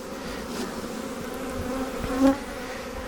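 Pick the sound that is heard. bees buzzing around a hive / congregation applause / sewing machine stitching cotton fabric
bees buzzing around a hive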